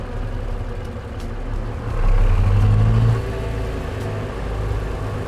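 A car engine idles and then swells louder for about a second as the vehicle reverses before settling back to a steady low hum, heard near and alone.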